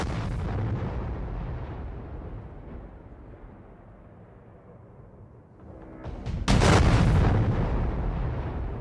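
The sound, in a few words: non-nuclear bomb test explosion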